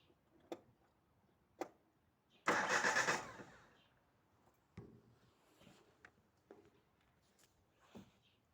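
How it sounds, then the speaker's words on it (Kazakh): A Daewoo Tico engine with a burnt ignition commutator and no spark is cranked in one loud burst of about a second that fails to catch, followed by scattered sharp clicks and taps in a quiet space. "Азыр биз текшеребиз, машинаны жүргүзүп."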